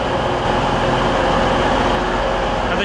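Steady rumble of a train heading to Manchester Piccadilly through the Ordsall Chord, heard from on board as a continuous, fairly loud low roar with rail noise and no talk.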